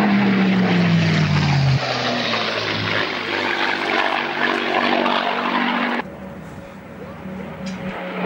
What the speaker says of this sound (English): rolling the aeroplane at the same time as flying it through 360 degrees